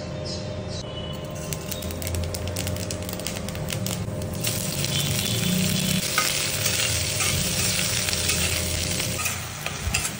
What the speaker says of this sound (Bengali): এখন বাঁধাকপি রান্না করছি